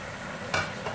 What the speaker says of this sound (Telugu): ఇప్పుడు ఇందులో మటన్ వేసుకుంటున్నాను అన్నమాట.